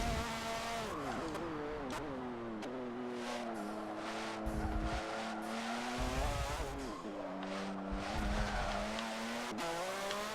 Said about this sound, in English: But this is the Indy car in Suzuka.